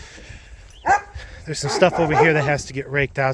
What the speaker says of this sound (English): Sorry about the dogs behind me. The neighbors' dogs are going crazy.